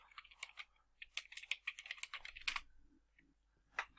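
Keys tap on a computer keyboard as search keywords are entered, a quiet, close burst of irregular clicks that thins out to a few scattered taps, with no voices.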